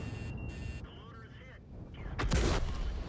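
A howitzer on a light tank fires in World of Tanks, a sharp loud blast with a bright wideband burst and rumbling tail late in the clip, following quieter battle ambience and faint tones.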